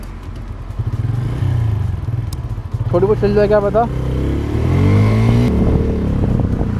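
Bajaj Freedom 125 CNG motorcycle engine idling roughly and jerking as it runs low on fuel and nears stalling, its uneven putter loud and close, with someone talking over it.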